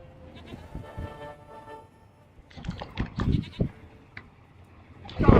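Goat bleating in The Witcher 3 video game, a few wavering bleats close by, first softer and then louder calls in separate bursts, with quiet gaps between them.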